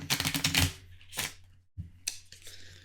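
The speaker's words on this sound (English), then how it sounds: "I gotta shuffle." A deck of playing cards is riffle-shuffled and finished with a bridge, making a fast, close clattering riffle followed by two shorter, crisp flutters of the cards settling.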